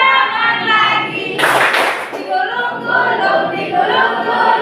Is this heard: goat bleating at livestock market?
no